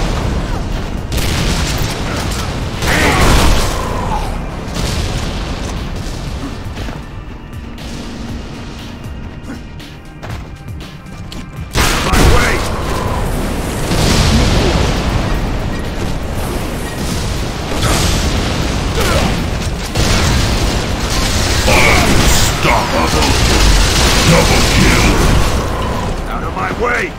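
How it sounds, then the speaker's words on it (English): Heavy gunfire and repeated explosions in a team deathmatch on the Crucible map in Unreal Tournament 3: loud, dense booms and mechanical weapon clatter that keep going, briefly thinning out near the middle before the barrage resumes, with voices mixed in. "I'm taking heavy fire!"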